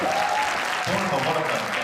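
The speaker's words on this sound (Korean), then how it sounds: "박수 한번 쳐주세요." A crowd claps steadily throughout, a dense patter of applause filling the whole moment without a break.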